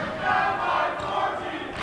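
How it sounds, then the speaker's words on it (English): Spectators at a high school boys basketball game chant together in a sustained, rhythmic roar that fills the gym at moderate volume. "The crowd is now chanting down by 14."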